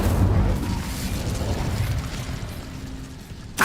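Incendio fire spell cast in Hogwarts Legacy, a loud rumbling burst of flame that roars and slowly fades over a few seconds, ending with a sharp pop.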